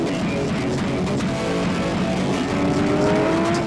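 A Porsche 911 R accelerates hard on a race track, its engine a continuous close, loud roar building under full throttle with no talk over it.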